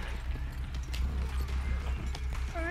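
A horse gallops in a Wild West video game, hoofbeats pounding in a fast steady rhythm with creaking tack, loud and close throughout, a brief whinny-like tone at the end.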